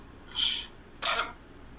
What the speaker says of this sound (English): Excuse me, I have to clear my throat.